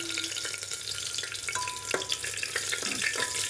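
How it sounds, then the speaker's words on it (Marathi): Green chilies frying in hot oil for egg biryani, a steady crackling sizzle with scattered pops and light stirring scrapes, close up and without any voice. "आता मिरची तळून घेते, तेलात फ्राय करून घेते चांगली।"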